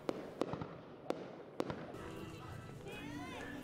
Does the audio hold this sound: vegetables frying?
no